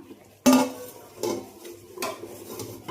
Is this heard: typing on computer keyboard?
no